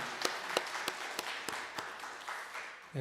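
Church congregation at a Sunday service giving a short round of applause, about eight sparse, evenly spaced claps fading quickly, fairly quiet.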